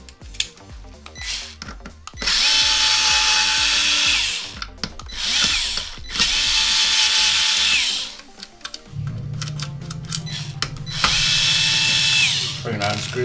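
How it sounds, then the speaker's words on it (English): A power driver with a T9 bit unscrews the front USB port screws on an Xbox One X console, whirring in several loud multi-second bursts separated by pauses, with clicks and handling noise between runs and a low hum near the end. "You're going to want to switch to a T9 screwdriver bit and unscrew these two screws here"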